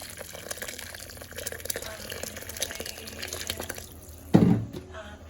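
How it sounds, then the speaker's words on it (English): Hot boiled water, about a liter, is poured into jollof rice in a pot, giving a faint, steady trickle that ends with a brief louder splash nearby. "So I'm adding hot boiled water. I'm using 1 liter."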